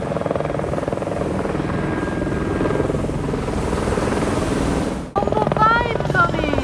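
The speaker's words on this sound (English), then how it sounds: "all these helicopters landing in that small area" A helicopter's rotor thrums loudly and continuously nearby as it flies in to land in a small area, then the noise briefly cuts out before resuming with voices audible over it.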